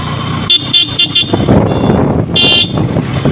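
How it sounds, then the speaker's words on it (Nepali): A vehicle horn honks in several short, loud toots followed by one longer blast, over engine and road noise on a steep mountain road. "हर्न बजाउँदै हिँड्नु भन्दैछ"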